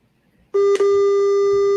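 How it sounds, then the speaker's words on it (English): A generated pure tone at 300 hertz switches on abruptly after a half second of quiet and holds steady and loud, with a tiny click-like break just after it starts. "They're pure tones, starting at 300 hertz."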